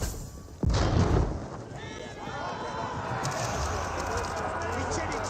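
Siege weapons bombard a keep in the strategy game Age of Empires IV: one heavy boom strikes, then a sustained rumble of battle noise carries on steadily.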